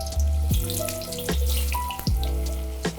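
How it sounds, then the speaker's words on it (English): Potatoes deep fry in hot oil mixed with clarified butter, a loud bubbling sizzle swelling in repeated surges as batches go in, with clanking pan noises between. "Deep frying the potatoes 2 to 3 minutes at a time."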